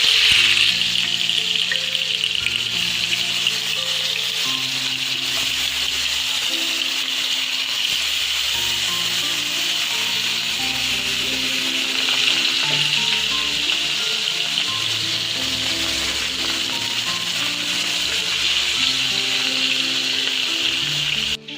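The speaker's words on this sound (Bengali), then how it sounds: "আর আরেকদিকে মাছটা ভেজে নেই" Fish fries in a pan on a stove, giving a steady, loud, close sizzle of hot oil that runs unbroken throughout.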